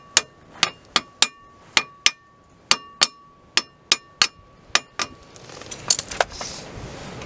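Sharp metallic taps on a Land Rover Discovery 300 TDI front brake plate, about a dozen evenly spaced ringing knocks close by, followed by fainter rattling and scraping.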